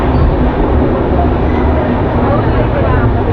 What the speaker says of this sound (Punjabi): ਟ੍ਰੇਨ ਹੁਣ ਡੇਢ ਸਾਹਿਬ ਤੋਂ ਬਾਹਰ ਨਿਕਲ ਗਈ ਹੈ